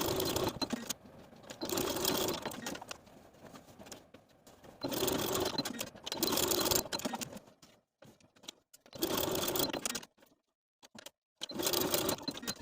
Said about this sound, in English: I'm going to sew the strap to the dress 1/8 of an inch above and below that top row of shirring, back stitching to secure